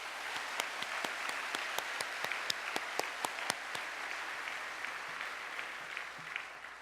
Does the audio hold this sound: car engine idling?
no